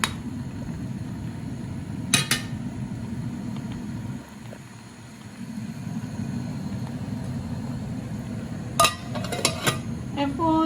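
A spoon stirs food in a metal cooking pot, giving scraping and clanking with sharp clinks in two bursts and a steady low frying noise underneath.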